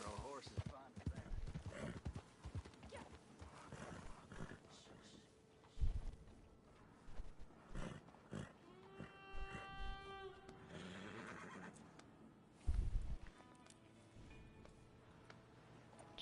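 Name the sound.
horse hooves clopping and neighing in video game Red Dead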